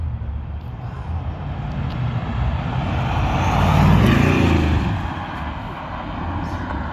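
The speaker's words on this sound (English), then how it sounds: "You could hear the turbos on it." A Bugatti Chiron Sport accelerating hard past, its engine and turbo whoosh rising to a loud peak midway with a Doppler sweep, then fading as it pulls away into the distance.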